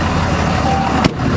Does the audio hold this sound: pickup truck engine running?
yes